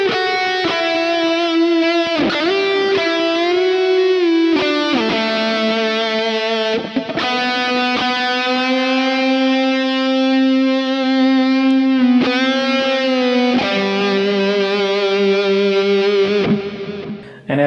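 Electric guitar with effects plays a piece slowly, long sustained singing notes bending and sliding between pitches with a smooth, slightly driven tone, loud and close with brief breaks between phrases.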